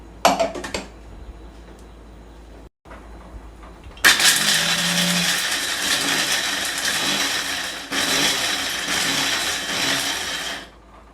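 A mixer grinder with a medium jar starts with a loud, harsh whir and runs steadily, coarse-grinding, preceded by a few brief clatters and a short pause.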